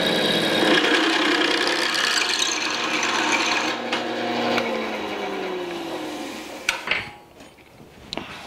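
A drill press drills a half-inch hole in metal, grinding steadily with a harsh rasping whine that slowly winds down, followed by a few sharp clunks and clatters.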